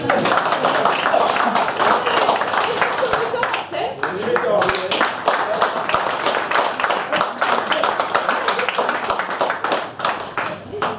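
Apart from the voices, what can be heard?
applause for the stage crew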